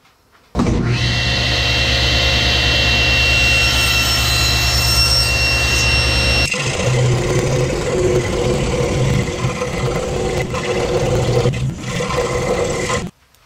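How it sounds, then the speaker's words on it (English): An electric scroll saw cuts a wooden handle shape for a garden trolley, starting abruptly with a loud, steady buzzing drone that changes tone partway through as the blade bites, then stops sharply at the end. "we're going to head over to the scroll saw and cut it out"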